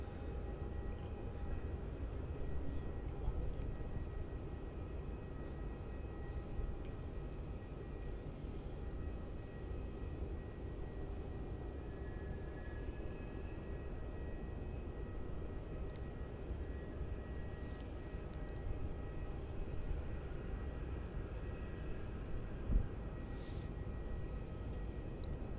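An airliner rolls off the runway onto the rapid exit at Melbourne Airport, its engines a steady, even rumble at a distance that holds throughout with no voices.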